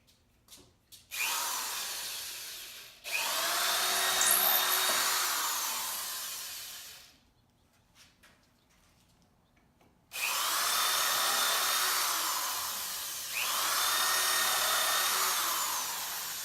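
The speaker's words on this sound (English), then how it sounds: "I'm going to come back with a little bit bigger drill bit and drill out the top of the hole" Power drill with a slightly larger bit widening the tops of screw holes in wood to countersink them, two long whirring runs, the second pair with a brief pause, close and loud, no talk.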